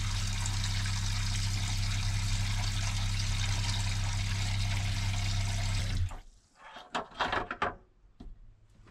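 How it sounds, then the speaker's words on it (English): Water from a tap rushes steadily into the sink of an Iveco camper van for about six seconds, then stops abruptly, followed by a few scattered knocks and clunks. "I'm gonna fill up the sink first."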